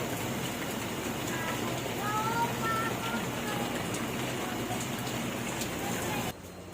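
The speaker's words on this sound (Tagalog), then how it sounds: "lakas ng ulan." Heavy rain pours down steadily in a dense, constant hiss that fills the scene, loud and unbroken before cutting off abruptly near the end.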